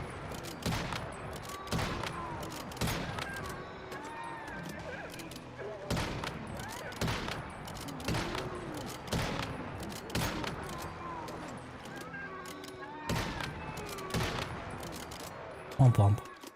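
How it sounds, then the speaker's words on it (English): Gunfire in the survival shooter Once Human: repeated bursts of rapid shots in irregular clusters across the stretch, fairly loud and near, with a sharp louder blast at the very end. "Now I can shoot you."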